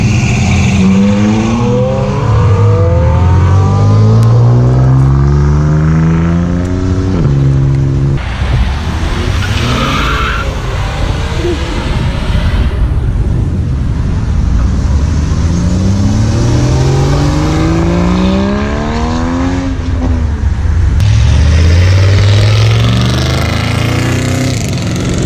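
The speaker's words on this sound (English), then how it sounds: "It's an 840 horsepower Challenger, and it is a beast." An 840-horsepower Dodge Challenger roars through repeated hard accelerations. Each loud, close engine sweep climbs in pitch through the gears, with brief drops between shifts, over roughly three pulls.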